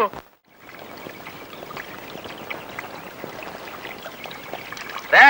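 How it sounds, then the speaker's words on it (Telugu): A bucket of water is tipped out onto a bathroom floor, giving a steady rushing splash that keeps going after a brief silent start and ends on a sharp clatter. "శ్యామలా, బాత్రూమ్ లో చెమ్మె నీళ్లు పెట్టు, ఆ తర్వాత బకెట్ నీళ్లు కొట్టు."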